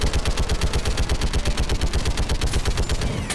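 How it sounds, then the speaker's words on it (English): Heavy turret gunfire in Mass Effect 3 multiplayer, a fast, even stream of loud punchy shots repeating without pause for several seconds, with no talk over it. "This is a heavy turret."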